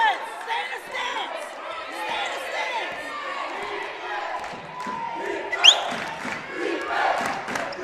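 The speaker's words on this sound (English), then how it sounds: "And the York crowd getting loud here." The York crowd at a women's college basketball playoff game cheers and shouts loudly in a gym, a sustained roar with a commentator talking over it.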